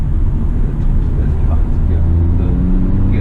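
Hyundai i20 N Line hatchback from 2021 pushed hard in sport mode, its engine and road noise forming a steady loud low rumble throughout, with no talk over it.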